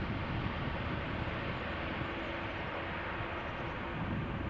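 A United Boeing 787 rotates and lifts off at Amsterdam Schiphol Airport, its engines a steady, broad, distant roar that holds even throughout, with no voices.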